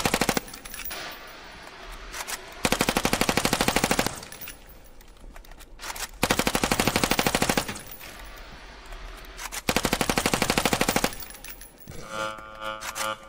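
Bursts of rapid automatic gunfire from the video game Elevated: three loud, sustained volleys separated by short quieter gaps, with a brief clatter at the end.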